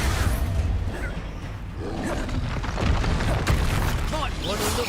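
Hogwarts Legacy battle with a booming, roaring magical blast from the Expulso exploding spell, dense whooshes and rumbles throughout under shouted spell incantations.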